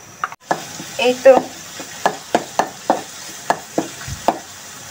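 Garlic and onion frying in oil in a pan, with a soft sizzle under a series of regular sharp stirring scrapes and knocks, and a brief spoken word near the start.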